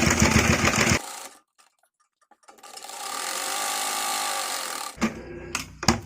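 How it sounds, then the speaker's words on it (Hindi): Sewing machine stitching a small child's kurti: a rapid mechanical run of stitching, a pause of near silence, then a longer steady run and a few short bursts. "उस तरफ हम पहले स्टिचिंग रख लेते हैं"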